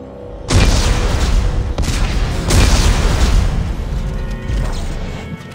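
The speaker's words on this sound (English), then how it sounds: "Computer, arm explosives. And detonate." Explosives detonate in a sci-fi game setting in Dead Space 3, a loud close boom erupting suddenly and rolling into crashing debris, followed by further rumbling blasts that fade out.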